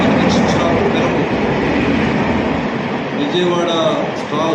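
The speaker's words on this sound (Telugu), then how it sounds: "ఇప్పుడు ఈ ట్రైన్ ఒకటి హౌరా టు బెంగళూరు పాస్ అయింది" A Howrah to Bengaluru passenger train passes close by at Kavali, a loud, steady rumble of wagons with clattering wheels throughout and voices underneath.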